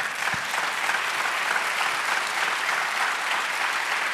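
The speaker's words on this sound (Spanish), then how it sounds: "Dar un aplauso al Señor." A church congregation claps together during a Spanish-language service, a dense, continuous wave of applause at moderate volume with no voices on top.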